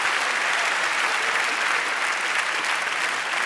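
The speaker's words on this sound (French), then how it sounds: "Celle-là, vous applaudissez." A theatre audience claps after a magic trick with a deck of 2704 cards, producing a thick, continuous roar of hands from a big crowd, sustained and even throughout without any talking.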